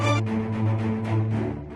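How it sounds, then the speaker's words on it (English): Violins from an orchestral sample library play a short epic cinematic ostinato of rapid repeated bowed notes, full and close, with no voice over it. "The violins sound like this."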